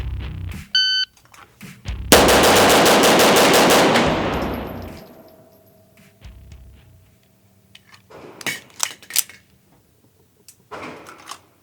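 Shots from a custom Z.E.R.T. 1911 pistol on a range: a short burst of loud, rapid reports ringing out near the mic, followed by fainter scattered pops and clatter, with a beep before.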